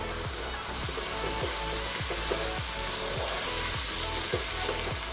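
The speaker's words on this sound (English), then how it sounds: "Now I am adding in the potato," Pumpkin and pre-boiled potatoes fry in a pan with a continuous close sizzle. Rhythmic scraping thuds come from stirring throughout, and no one speaks.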